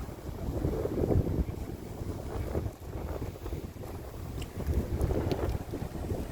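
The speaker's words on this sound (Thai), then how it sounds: "ได้ยินเสียงลมเนาะ" Wind rushes past while cycling through a residential neighborhood, a continuous low buffeting rumble of microphone wind noise with gusty swells and no talking.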